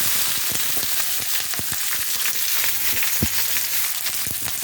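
Ingredients sizzle steadily in a hot wok for beef rendang, a dense broadband frying hiss with a few sharp clicks and taps of a utensil scattered throughout, and no voices.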